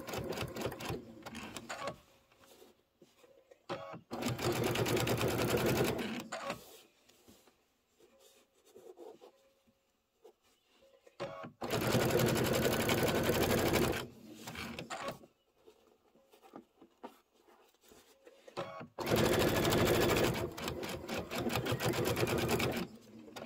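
A sewing machine stitches a pillow top to its bottom while the fabric is eased to fit, running in three long loud bursts with quieter handling noise between them.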